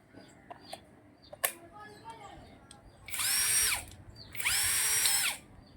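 A 21V heavy-duty cordless drill with hammer, drill and screw modes and twenty torque settings whirs loudly in two sustained bursts of about a second each, following a few faint handling clicks.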